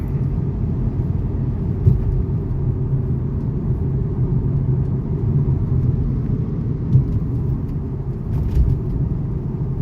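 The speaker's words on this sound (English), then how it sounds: "I'm just driving to work." Steady low road rumble heard from inside a car driving along clear roads early in the morning, with constant engine and tyre noise and no talking.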